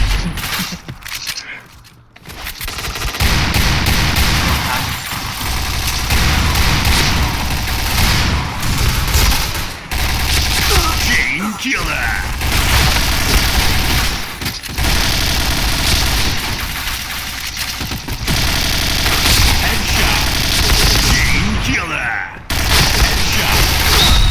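Gunfire in the shooter game Point Blank, rapid automatic bursts and volleys repeating loudly across the whole stretch, with someone talking over the shooting.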